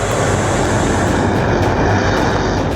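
A Rafale supersonic fighter jet scrambling for an emergency takeoff produces a loud, steady, close engine roar throughout.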